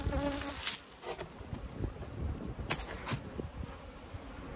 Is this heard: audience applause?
no